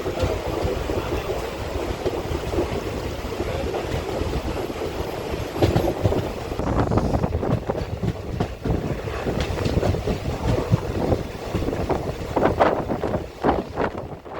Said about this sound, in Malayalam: കാടിൻ്റെ വന്യതയും ട്രെയിനിൻ്റെ താളാത്മകമായ ശബ്ദവും മാത്രം.